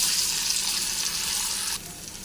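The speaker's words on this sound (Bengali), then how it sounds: "এবার এটাকে ভেজে নেব তেলে।" Taro leaf roll fritters fry in hot oil, making a loud, dense hiss up close that drops to a softer sizzle near the end.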